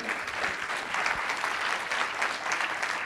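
An audience breaks into sustained applause at the close of a conference talk on food technology and gastronomy, a dense, even clatter of many clapping hands filling the room for several seconds.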